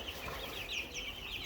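Cornish Cross meat chickens on pasture make a steady, soft murmur of clucking and chirping that runs through the whole moment, fairly near and continuous with no talk.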